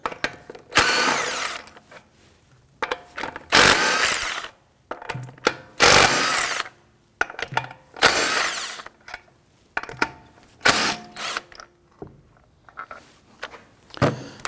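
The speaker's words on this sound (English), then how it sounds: "Using our 19mm socket, we're going to loosen and remove the lug studs." An impact wrench loosens the lug studs on a 2001-2009 Volvo S60 with a 19mm socket. The loud, close whirring bursts come one after another, broken by short pauses and some clinking.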